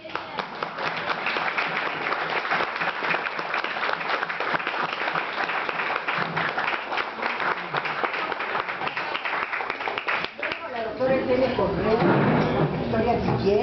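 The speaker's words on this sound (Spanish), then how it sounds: "Un aplauso para él." Audience applause for veteran Mexican politician Porfirio Muñoz Ledo at a ceremony honoring his political career, sustained dense clapping for about ten seconds before it fades and a voice begins speaking.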